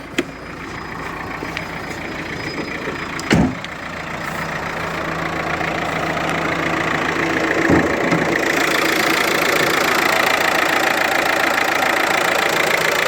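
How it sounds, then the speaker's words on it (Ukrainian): A 2014 Renault Megane 1.5 dCi diesel engine idles with a continuous low rumble throughout, a few faint clicks and knocks early on, and the hum grows slightly fuller toward the end. "Двигун працює рівненько."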